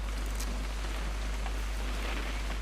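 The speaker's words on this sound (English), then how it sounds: "It's gonna rain the whole weekend, isn't it?" Steady rain falls in the video game What Remains of Edith Finch, a dense, even hiss with a low rumble, continuous and fairly close throughout.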